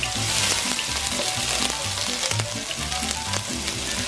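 Minced onion sautés in hot oil with a loud, dense sizzle that never lets up, and a spatula stirs and taps through it in a roughly steady rhythm.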